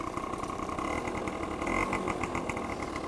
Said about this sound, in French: Je vais vous faire sans abuser 2-3 petits coups d'accélérateur.